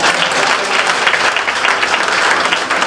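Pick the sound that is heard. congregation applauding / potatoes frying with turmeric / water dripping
congregation applauding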